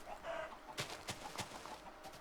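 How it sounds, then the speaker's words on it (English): Chickens cluck in a video game in a few sharp, scattered bursts over steady background game noise, fairly close and moderately loud. "they're just chickens everywhere"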